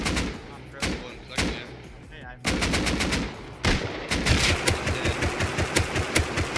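Rapid automatic gunfire in the survival game Rust, loud bursts of shots cracking one after another with short gaps, then dense sustained firing toward the end, with a voice briefly talking over the fight.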